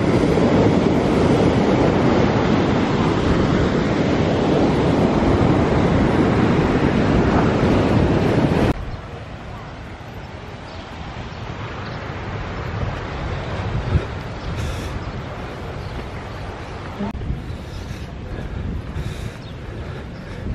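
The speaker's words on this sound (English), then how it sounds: "they've put the big waves on." Big sea waves crash along the shore at a Turkish seaside town on a May morning, a loud steady roar of surf that drops to a quieter, continuous wash partway through, with no voices.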